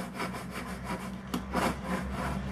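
A hand saw cuts down to depth in wood while a door for a key holder is being made, a close, steady run of rhythmic rasping strokes, fairly quiet and with no voices.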